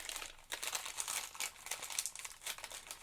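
Paper wrapping from a craft subscription box crumpled and crinkled by hand during an unboxing, close and continuous with bursts of crackling, no talk.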